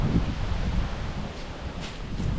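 Strong wind gusting outdoors, a steady loud broadband roar with rustling and buffeting against the microphone throughout, no voices.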